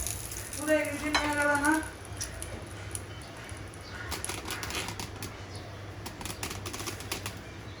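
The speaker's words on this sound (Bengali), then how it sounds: "আর একটা পাপড় ভেজে আমি দেখাই দিচ্ছি" A papad fries in hot oil with a steady, fine crackling sizzle close by, and a brief tonal chirp rises over it early on before the frying carries on alone.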